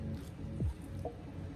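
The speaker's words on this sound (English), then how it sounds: "It needs a watering, so I'm going to water it in first" Water poured onto the soil of a potted plant, a brief squishy gurgle and soft drip as the soil soaks it up, close and quiet.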